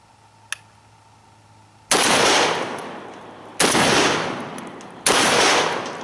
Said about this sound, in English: We've got some Remington Express buckshot, and we're just going to shoot